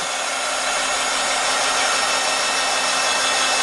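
A heat tool blows a steady, loud, unbroken rush of hot air while drying ink and acrylic paint on a paper tag, with no other sounds.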